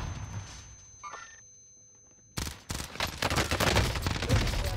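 A few faint, sparse shots in the Warzone video game build into loud, dense gunfire during the second half.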